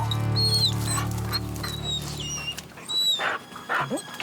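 Hunting dogs bay and whimper at a tree in the Rocky Mountains, thinking a cat is on a limb; high whines and yelps carry over a steady background hum, followed by a few closer rustling bursts.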